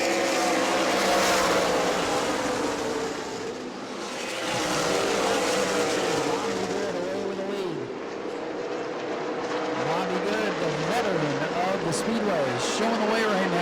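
Race cars lapping at New Smyrna Speedway, a continuous loud engine roar with rising and falling pitch as the pack circles, under a track commentator's steady talk.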